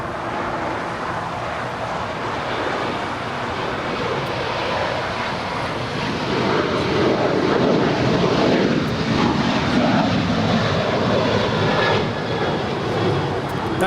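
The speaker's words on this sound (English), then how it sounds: "That was United 1241 departing to Denver" A United airliner takes off from Los Angeles airport bound for Denver, a loud, dense engine roar that holds steady and builds slightly toward the middle, close by and without talk.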